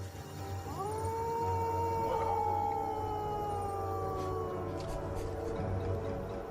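A wild dog in the Australian outback gives one long, loud, wavering howl that holds steady and then slowly trails off, alone over faint background noise.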